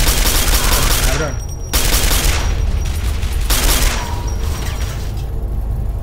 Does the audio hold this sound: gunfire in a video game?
yes